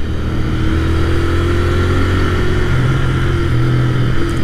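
A Royal Enfield Interceptor 650 motorcycle's engine drones steadily while riding, its pitch rising and shifting slightly, loud and close with wind noise.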